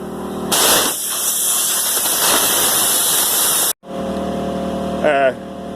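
Compressed air blasts from a shop air compressor tank valve in a loud, broad hiss lasting about three seconds, cutting off abruptly, then a lower steady hum follows with a voice briefly over it.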